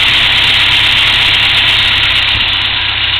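A car motor idles close by with a loud, continuous low rumble and steady vibration that never lets up.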